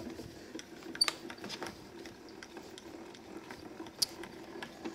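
An embossing machine cranks a folder with a pink embossing plate and tan mat through its rollers, giving a steady low ratcheting, gear-like grind with a couple of sharper clicks, faint and close.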